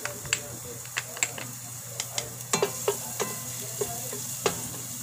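Garlic sautéing in a tablespoon of oil in a pan for green bean stir-fry, a soft continuous sizzle with sharp spatula clinks and stirring scrapes scattered over a few seconds, close and moderate.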